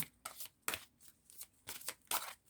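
Cards are shuffled for a nine-card reading: repeated soft riffling bursts in an uneven rhythm, close and quiet, with no voice.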